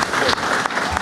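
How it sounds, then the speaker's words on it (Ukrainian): Audience applause at a Ukrainian event during a presidential visit, a dense burst of clapping that fills the whole moment with a crowd murmur mixed in. "зараз можна аплодувати"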